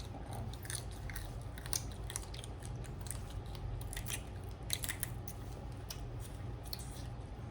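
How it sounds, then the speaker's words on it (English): Snow crab shell cracked and chewed up close at a seafood boil meal, a steady run of sharp crunchy snaps and wet chewing over a low background hum, with no talking. "it's me that like to chew on the crab when it's done."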